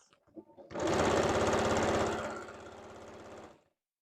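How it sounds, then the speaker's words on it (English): A sewing machine stitching trims onto a Yup'ik qaspeq vest runs in one loud, rapid burst after a few soft clicks, its needle chatter strong at first, then easing slightly before stopping abruptly. "Again, just sewing on all the trims."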